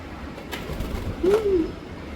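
A single soft coo from a white pigeon rises and falls near the microphone, over a low steady background hum.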